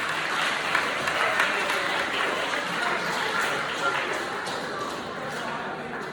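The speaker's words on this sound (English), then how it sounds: "can y'all give a nice round of applause for Alex Vasquez Garcia?" Steady audience applause fills a middle school awards ceremony, dense clapping from a crowd holding at an even, fairly loud level throughout with no talking over it.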